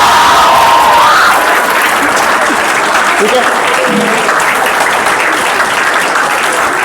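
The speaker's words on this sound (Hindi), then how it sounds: "बजाओ ताली" Audience in a coaching class applauding together, a dense steady wash of clapping that fills the whole stretch at a loud, even level after a brief spoken word.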